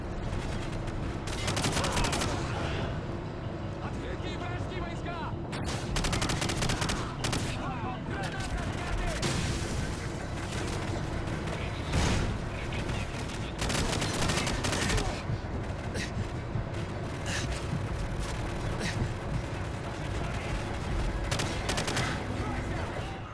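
Video game gunfire from Modern Warfare, with rapid bursts of automatic weapons and scattered heavier blasts repeating throughout, dense and loud, with someone talking over parts of it.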